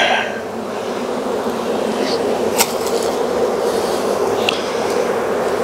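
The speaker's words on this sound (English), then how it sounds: "We have the bees in the box, and these bees are all running" Honeybees just shaken from a five-frame nuc into a seven-frame hive box give a steady, dense buzzing hum close by, with a brief sharper knock partway through.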